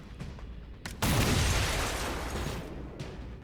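A shrapnel bomb bursts in the tactical game XCOM Chimera Squad: a sudden loud boom with a crackling, debris-filled tail that fades over about two seconds, followed by quieter game effects.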